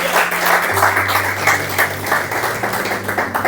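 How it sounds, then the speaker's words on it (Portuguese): A church congregation claps together in steady, continuous applause, filling an indoor space, with no one speaking over it. "Adora o Senhor com palmas para Jesus"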